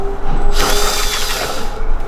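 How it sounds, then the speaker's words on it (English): A power drill whirs briefly into a car's metal trunk, a short high-pitched grinding burst close by lasting about two seconds. "I'm gonna have to drill these ones like this."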